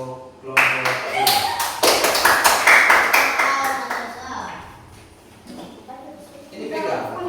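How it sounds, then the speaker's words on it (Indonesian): An elementary school class claps for a student group, several seconds of crisp, close hand clapping that fades, followed by a teacher's voice. "tepuk tangan dulu untuk kelompok ini"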